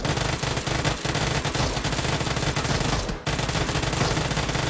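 Sustained automatic gunfire in the mobile shooter BGMI, dense rapid bursts fired at a bot with barely a break, loud and close throughout, one brief pause near the end, no talk.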